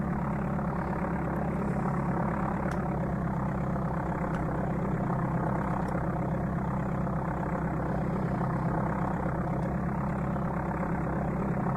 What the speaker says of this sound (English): I originally heard this Cessna sound right here on the Commodore Amiga.